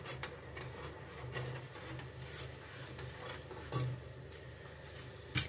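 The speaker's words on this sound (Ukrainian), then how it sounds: "Все змішую, щоб розчинилася сіль." A spoon stirs salt, sugar, allspice and coriander into a pot of boiling brine for spiced salted herring. The scraping and clinking are faint and continuous, with a few louder knocks near the end.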